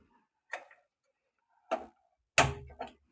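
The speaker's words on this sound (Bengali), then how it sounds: "এবার আমি গ্যাসটা জ্বালছি।" A gas stove igniter clicks four times in a home kitchen before a paratha is cooked: sharp, separate snaps with pauses between them, the last two coming close together, with no other sound around them.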